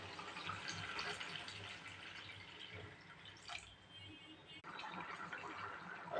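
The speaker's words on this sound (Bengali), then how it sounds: "এবারে সেদ্ধ হওয়ার জন্য একটু পানি দিয়ে দেবো।" Water poured into a pan of vegetable curry with potato, eggplant, capsicum, carrot, green beans and tomato, a brief splashing pour amid steady kitchen noise and a low hum, ending in a louder clatter.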